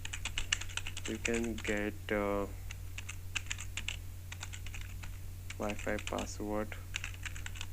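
Rapid typing of a text message on a computer keyboard, steady clicking keystrokes close up throughout, with a person speaking briefly over it in two stretches.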